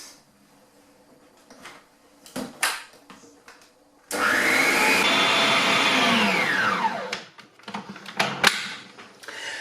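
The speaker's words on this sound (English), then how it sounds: "I've got my mixer back to front today so that you can see what's going on in my bowl" An electric mixer whisks meringue in a bowl for a chocolate hazelnut meringue mousse cake, starting abruptly with a loud steady whir that holds for a few seconds, shifts pitch, then stops amid clattering bowl knocks.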